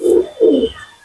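Pigeon giving two short, low, throaty coos in quick succession, close and clear, with faint chirps from other birds behind.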